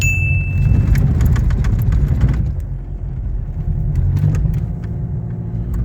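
A parked-area car engine idles with a steady low rumble while the car is maneuvered into its spot in a snowy winter yard, with a few faint clicks and jingles over the constant drone.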